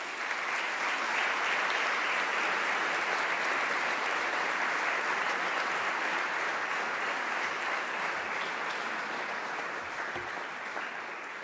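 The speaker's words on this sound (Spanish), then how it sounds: "vamos a darle un aplauso y que nos cuente esta fascinante historia de los neutrinos" A large audience at a science talk breaks into loud, sustained applause, a thick uninterrupted wash of clapping hands that holds for over ten seconds with barely any fade.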